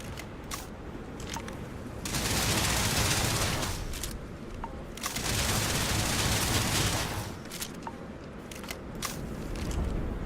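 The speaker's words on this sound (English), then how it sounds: "This guy's unloading all the damn ammo in the base." Dense, crackling bursts of gunfire in the video game Starfield as an enemy empties round after round, rising and falling in long rattling volleys with brief gaps between them.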